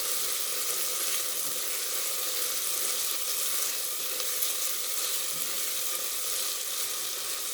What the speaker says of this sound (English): when you start seeing the garlic kind of turn a little golden brown, that's when you hit perfect doneness